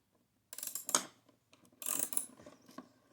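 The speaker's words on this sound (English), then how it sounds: "all you got to do is usually put a wrench on" A wrench works a bolt under a Honda CRF230F dirt bike to loosen the air filter cover, giving two bursts of ratcheting, clicking metal about a second apart, with a few small taps after, close and fairly quiet.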